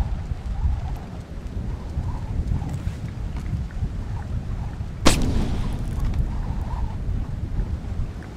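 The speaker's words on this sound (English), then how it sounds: "Thunderstorms make me nervous." Steady rain and rumbling thunder in a thunderstorm in the video game Splinter Cell: Chaos Theory, a constant low wash with one sudden sharp crack near the end followed by heavier rumble.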